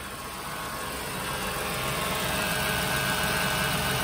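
A 2013 Ford Taurus 3.5 liter V6 with automatic transmission idles steadily, a smooth, even engine hum at close range with no voices, holding a constant level throughout.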